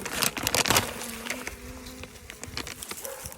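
Honeybees from a package being torn open beside a hive buzz loudly and close at first, then settle into a steady, softer hum with crackling paper and handling noises.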